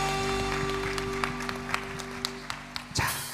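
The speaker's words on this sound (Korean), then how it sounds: "한번 영광 박수를 드리겠습니다." Congregation clapping during a Korean church worship service marking the church's centennial, a steady patter of hands with sharper claps over sustained keyboard or organ tones.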